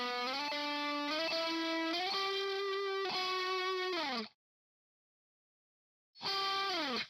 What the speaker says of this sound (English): I have the left guitar doing a little bit of a walk up here.